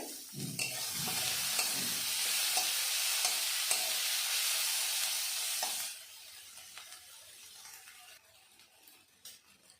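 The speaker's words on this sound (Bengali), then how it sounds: "আমি তিন থেকে চার মিনিট মতো ভেজে নিয়েছি" Bottle gourd peel fries in a pan with a loud, bright sizzle and stirring scrapes; after about six seconds the sizzling drops to a quieter crackle with occasional clinks.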